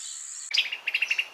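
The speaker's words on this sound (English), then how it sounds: "Birds." Birds singing as one layer of a recreated outdoor ambience for an animated film soundtrack. A high insect-like drone cuts off abruptly and gives way to a quick series of bright, evenly spaced chirps close by.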